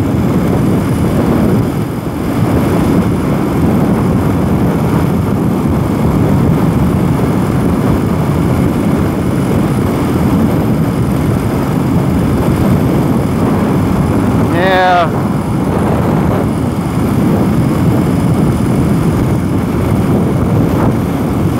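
A 2021 BMW R 18 cruiser motorcycle's engine drones steadily and loudly throughout a ride without a fairing, with a brief rising whine near the middle and wind noise over the rumble.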